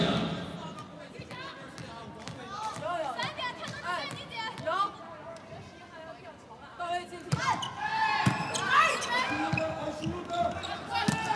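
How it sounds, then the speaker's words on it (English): Court noise during a women's international volleyball rally between Brazil and China: squeaking shoes, thumps, running footsteps and players calling to one another, with a quiet crowd murmuring and a commentator talking over it. "Just to hear the level of noise there is on the court, the amount of communication that's going on during a rally."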